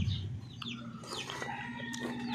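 Chickens cluck and call up close, with several overlapping high chirps and short calls in a quick, irregular series at a moderate level, and no talking.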